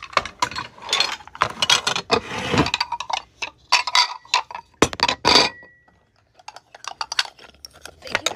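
Stolen restaurant hibachi and sushi dishes, with a spoon among them, clink and knock as they are handled, coming in bursts of close, bright rattling contacts separated by short pauses.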